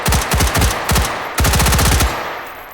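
Rapid automatic rifle fire in the VR shooting game H3VR, two loud close bursts of fast repeated shots separated by a short pause, with no talking.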